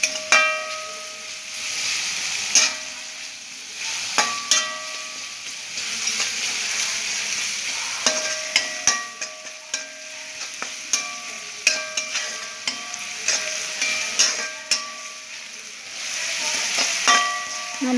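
Onion frying in a pan with a pinch of salt gives a steady, close sizzle with intermittent knocks and scrapes from stirring over a faint tonal background, and no one speaks.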